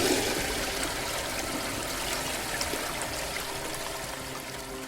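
Hands are washed under a steady stream of running water, a continuous, close rushing splash that holds for several seconds without pause.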